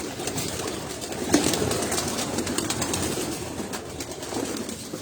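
Breeder pigeons on a rooftop loft, cooing softly in low repeated calls over a steady outdoor background hum, with a brief flutter near the start.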